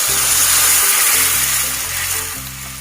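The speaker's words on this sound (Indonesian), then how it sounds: "kita masukkan airnya" Water goes into a hot pan of fragrant fried spices for cassava leaf gulai, bringing a loud, dense hiss and sizzle that holds steady and then eases slightly toward the end, with no talking.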